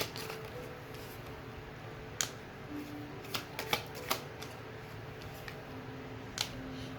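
Tarot cards are shuffled and drawn, a quiet soft riffle broken by several sharp close flicks and snaps.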